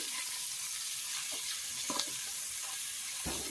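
Sausage frying in a pan gives a steady hiss of sizzling oil with faint clinks and soft stirring, close and even, with no talking.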